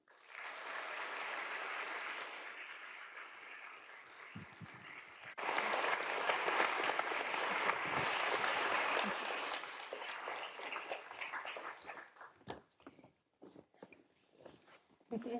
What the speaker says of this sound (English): Let's please give a round of applause and warm welcome to our moderator, Lindy Greer, and our speaker, Mary Barra.